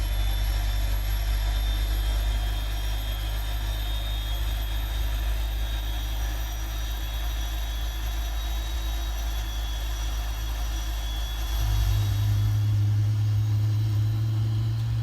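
Right engine of a Boeing 777 starting in the PMDG flight simulator, a continuous low engine drone with a faint high whine that steps up sharply and grows louder near the end as the start takes hold.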